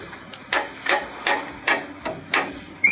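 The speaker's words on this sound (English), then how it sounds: "which is 4 clicks for an inch, 4/4 of an inch, and then the last click is for the curve" A ratchet on a chain sawmill clicks as the mill is raised to a new height setting, giving about seven crisp, evenly spaced clicks close by.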